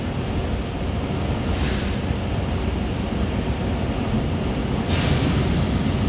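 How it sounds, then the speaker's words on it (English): Rushing water from a staged flash flood effect on the Universal Studios tram tour roars continuously in a broad steady wash, with two brief surges of hiss, loud and enveloping. "It's a flash flood. It's heading straight for the tram."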